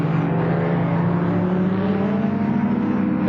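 Big touring race cars, including a Ford Falcon GTHO, roaring around the wet Warwick Farm circuit in 1973, a loud steady engine drone with layered harmonics and no letup.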